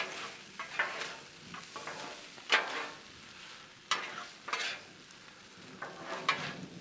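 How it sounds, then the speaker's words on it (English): Apricot sriracha chicken pasta being stirred and tossed on a Blackstone griddle, with a steady sizzle broken by repeated scraping strokes of a spatula against the flat top, close and fairly loud, and no voices. "And just mix it. Now this is where I had to mix a good bit."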